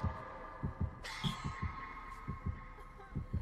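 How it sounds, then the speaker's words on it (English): The killer's heartbeat in Dead by Daylight thumps in a steady double-beat rhythm, low and moderately loud under a humming game ambience, without talk. "I could hear the heartbeat."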